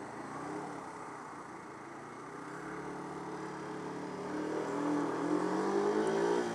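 Car pulling out of a roundabout in fast-moving traffic, its engine a low, steady hum that rises and swells toward the end as it accelerates away, with no talking.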